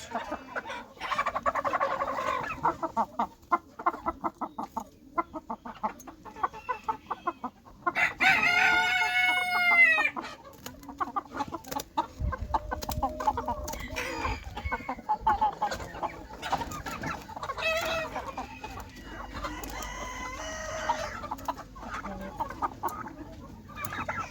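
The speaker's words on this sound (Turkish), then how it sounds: "Burada görüyorsunuz tepeli kel boyun tavuğumuz arkadaşlar." Crested naked neck chickens cluck in rapid, repeated bursts close by, with a loud rooster crow partway through and other fowl calling around them.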